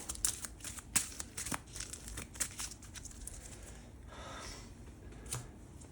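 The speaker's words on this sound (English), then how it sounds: "Give that a quick shuffle." Rapid crisp riffling and card snaps as a deck for the War of the Ring board game is shuffled, several quick bursts in a row, close up with no talking.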